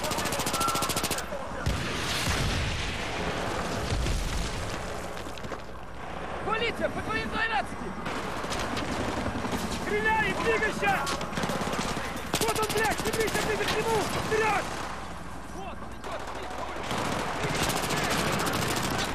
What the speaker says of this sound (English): Can't move up. The police are shooting.